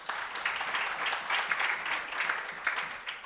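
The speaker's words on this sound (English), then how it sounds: "They also deserve a big round of applause." A seated audience at an inaugural address gives a big round of applause, a continuous crowd clapping with slight swells in intensity, heard alone without speech.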